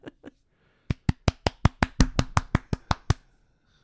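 A close run of about a dozen sharp, crisp hand claps, evenly spaced and quickening slightly, follows a couple of softer taps, then stops.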